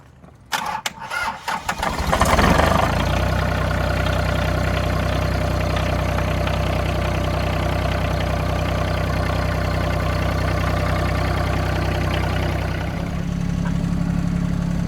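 A diesel tractor engine cranks, catches and revs up, then settles into a loud, steady rumbling idle close by.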